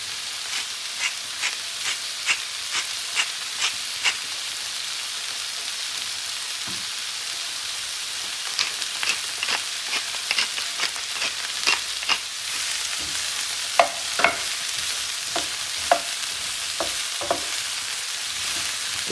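Cauliflower frying in oil in a pan, sizzling steadily with crackles and sharp pops scattered across the whole stretch, close and fairly loud with no voices over it.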